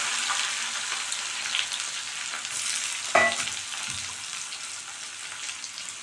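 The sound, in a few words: mustard seeds and urad dal sizzling in hot oil for tempering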